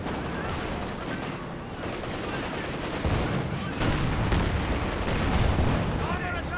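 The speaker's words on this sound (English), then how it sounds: "Now he's shooting at the Jagdtiger for a barrage in return" Dense gunfire and artillery blasts ring out in a Company of Heroes 2 battle as units fire at a Jagdtiger, continuous loud crackling and booming volleys with heavier hits toward the end.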